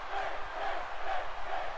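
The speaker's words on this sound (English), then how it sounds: "You can hear the crowd is rallying behind him." Crowd rallying behind a wrestler in WWE 2K18, a steady wash of arena cheering and chanting that swells in gentle waves without pause.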